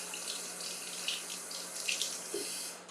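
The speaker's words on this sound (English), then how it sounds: "let me run a little cold water just so I can handle it." Cold water runs from a kitchen tap in a steady, close splashing stream, with small irregular spatters as it hits the sink and no talking over it.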